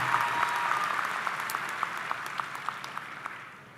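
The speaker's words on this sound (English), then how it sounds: "Can we please give them a round of applause?" Audience at a Paint Branch High School commencement ceremony applauding staff: dense, sustained clapping from a large crowd that slowly thins and fades, leaving scattered individual claps at the end.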